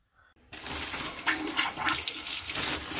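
Water is turned back on and rushes through freshly pressed Nibco fittings on household plumbing, bursting in suddenly after near-silence as a steady, fairly close, hissing gush.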